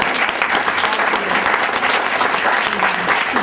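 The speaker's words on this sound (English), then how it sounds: "round of applause." An audience gives a sustained round of applause for presenters at a gathering on ending domestic violence, with dense, steady clapping at close range throughout and no speech.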